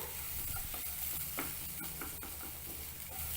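A green peanut snack mixture is stirred in a pan over a medium gas flame, with steady sizzling and intermittent scraping strokes of a spoon against the pan, close and continuous.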